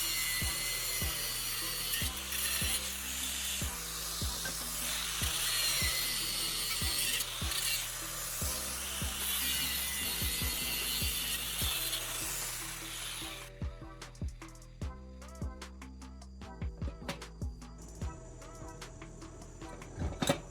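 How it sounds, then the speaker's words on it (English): An angle grinder whines steadily carving a small hole in steel, then breaks into short bursts with knocks and clatter as the cutting slows. "I'm using a grinder to carefully carve a small hole"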